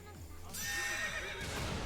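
A horse in a video game gives a loud, close whinny with wavering pitch, followed by a louder burst of game noise, with a voice speaking over it.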